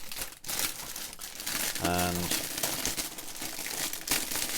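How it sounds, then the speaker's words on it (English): Plastic bags holding the parts of a 1/48 scale M1240 A1 MRAP model kit crinkle and rustle loudly and continuously up close, with someone speaking briefly during the crinkling. "Got noisy plastic bags here"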